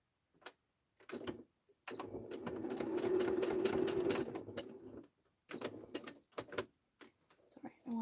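A home sewing machine stitches a fabric seam in short rapid bursts, one longer run in the middle between brief pauses, close and clear, with a voice speaking around the stitching.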